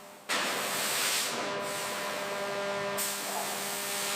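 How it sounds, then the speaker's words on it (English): A high-pressure water jet cuts steel motorcycle rear-wheel sprocket blanks in a CNC factory. A loud, steady roaring hiss starts abruptly after a brief quieter moment and runs on continuously over a faint machine hum, with no voices. "High-pressure water cuts without heat distortion."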